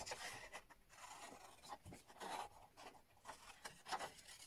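Scissors snipping through stiff cardstock in short, quiet rasping cuts, a steady series of close, crisp strokes with brief pauses between them.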